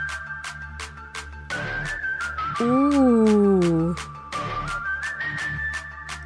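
A whistle-like synth line in a K-pop song, a sliding, wavering tone riding over a thumping beat and music, with a brief vocal exclamation from a listener.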